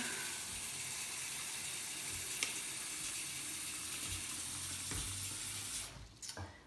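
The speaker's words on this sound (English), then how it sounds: "There is a max line, so let's fill it up with water." A steady, even rush of tap water fills a stainless steel cleaner tub, running continuously at moderate level with no voices, then tapering off in the last moment.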